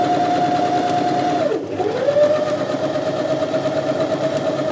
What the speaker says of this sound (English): So we're just sewing straight down